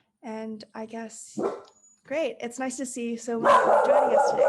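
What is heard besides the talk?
dog barking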